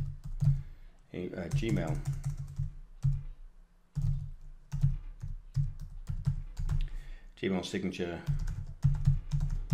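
Fingers type a folder name on a computer keyboard in quick bursts of close, crisp key clicks, with someone talking over and between them.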